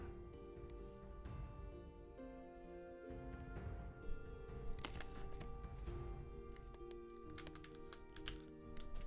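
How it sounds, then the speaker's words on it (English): Fast clicky typing on a mechanical keyboard, quiet and close, with bursts of rattling keystrokes over a background of sustained game music tones. "Sorry for all the clicky clacking, by the way. Mechanical keyboards, very loud things"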